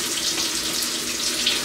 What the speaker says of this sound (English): we're gonna wash it in some hot water.